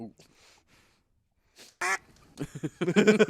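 A duck quacks in a short burst of loud, buzzy calls near the end, following a few fainter sounds and brief talk earlier.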